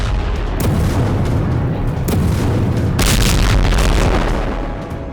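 Hezbollah rocket strike on an IDF post in Israel's Al Manara area: a series of heavy booming explosions with roaring blast bursts, the loudest near the end.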